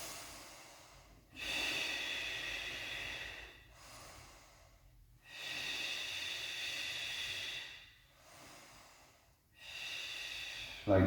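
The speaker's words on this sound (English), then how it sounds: "Exhale back and down." Breathy exhales during a mini ball exercise for abs and hip mobility, four long airy breaths separated by short pauses, close and moderately soft with no talk.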